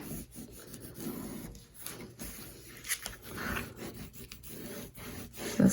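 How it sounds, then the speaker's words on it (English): A bone folder burnishes glue down on paper for a folio pocket, making close, short scraping rubs in an irregular series of strokes, quiet and dry. "And then you can grab your bone folder and burnish that glue down."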